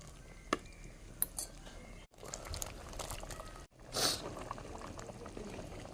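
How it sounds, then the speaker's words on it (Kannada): Masala for fish curry bubbles at a steady boil in a pot as fish goes in, with a soft continuous simmer, a couple of brief clinks and a short splashy surge near the middle. "ಮಸಾಲೆ ಇವಾಗ ಚೆನ್ನಾಗಿ ಕುದೀತಾ ಇದೆ ಇವಾಗ ನಾನು ಮೀನನ್ನು ಹಾಕ್ತೇನೆ"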